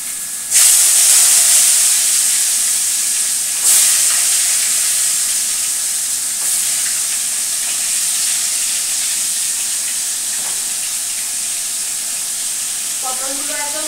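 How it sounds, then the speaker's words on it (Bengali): Pointed gourd (potol) slices coated in salt and turmeric fry in a wok with a loud, steady sizzle and steamy hiss that flares at the start and stays constant throughout, with brief clatters of stirring near the end. "পটলগুলো একদম একবারে ভেজে নিই"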